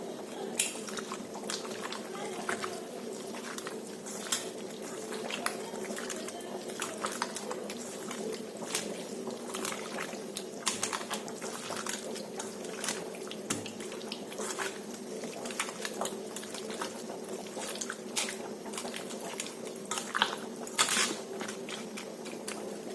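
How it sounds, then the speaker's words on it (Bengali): Homemade spice masala of cardamom, cinnamon and cloves is mixed into food by hand, with soft, steady squishing and wet patting sounds close by in a quiet room. "এবার আমি ভালো করে মিক্স করব।"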